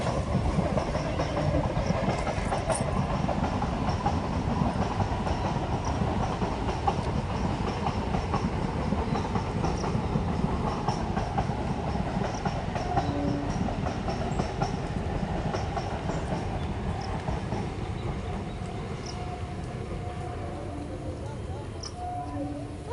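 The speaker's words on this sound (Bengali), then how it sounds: "ওই দেখো এদিকে আবার ট্রেনও চলে এসেছে" A train passes by a village, its steady rumble and clickety-clack of wagons filling the whole stretch at a moderate distance, holding fairly even as it rolls on.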